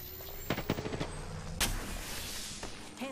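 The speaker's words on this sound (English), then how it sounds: "Easing up, I'm getting shot at." Scattered gunshots in the video game Apex Legends, a few sharp cracks in quick succession followed by a louder single report, fairly distant and moderate under a steady game backdrop.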